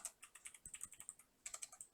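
Steady, rapid clicking of someone typing on a computer keyboard, with a brief pause midway, close and quiet with no voices.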